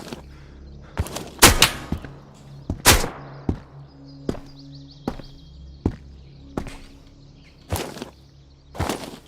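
Gunshots ring out in a video game, sharp and loud, some fired in quick pairs and others spaced apart irregularly across the stretch, with a quiet ambient hum between them.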